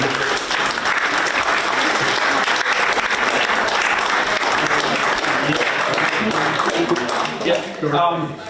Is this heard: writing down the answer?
no